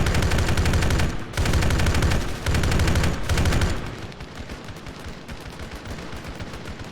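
Sustained automatic machine gun fire in the military shooter game Arma 3, loud and close, a dense rapid burst running several seconds with brief gaps, then thinning into scattered distant shots.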